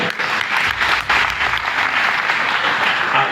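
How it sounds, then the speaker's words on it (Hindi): A gathering breaks into loud sustained applause in honor of the Yamuna river, the dense clapping holding steady with a brief dip near the one-second mark. "ये प्रदीप जी ने ताली अपने लिए नहीं बजाई, ये यमुना जी के लिए बजाई है ताली"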